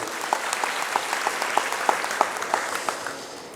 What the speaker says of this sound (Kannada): ಕಾರ್ಯಕರ್ತರಿಗೆ ಗೌರವ ಸಿಗೋ ತರ ಚಪ್ಪಾಳೆ ಹೊಡಬೇಕಾಗಿದೆ